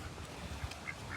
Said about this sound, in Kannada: ಡಕ್ ಸರಿ ಇಲ್ಲ ಗೈಸ್, ಅಟ್ಯಾಕ್ ಮಾಡ್ತವೆ.